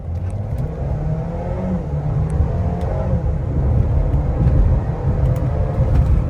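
A new car drives along a street and accelerates, its engine a low, continuous hum and road rumble heard from inside that swells slightly toward the end, with no voices.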